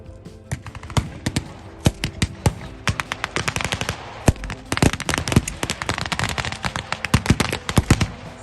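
Gunfire at a WWII battle reenactment, a dense, loud stream of sharp rifle and machine-gun shots cracking in rapid, irregular bursts, some close and some farther off, with no talk.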